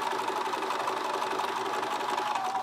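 A sewing machine runs steadily, stitching a quilt with straight stitches in a French Roses quilt workshop setting; a continuous mechanical whir, close and even, with no talk.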